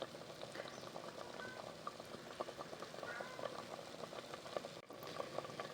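A Goan fish curry simmers in a pot, giving a soft, steady bubbling with small scattered pops. It is faint and continuous and holds right up close, with no voices over it.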